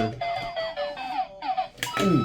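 Bright, bouncy electronic jingle of chirpy tones and descending sweeps from a Mario lamp, close and fairly quiet, ending in a quick rising flourish like a game sound effect.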